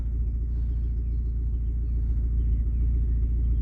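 A car with a sports exhaust idles with a deep, steady rumble, low and continuous throughout.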